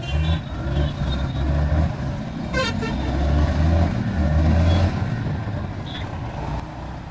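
A steady low engine rumble from a Yamaha XSR 155 motorcycle moving through traffic, with short horn toots from passing vehicles nearby.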